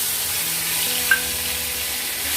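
Ginger and green chili paste sizzles in hot oil with a steady, close, bright hiss. One faint tick sounds briefly partway through, and no one speaks.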